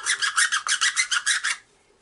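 Deburring tool scraping the cut end of acrylic hardline tubing: about ten quick, even rasping strokes in a steady rhythm, close and fairly loud, ending abruptly into near silence.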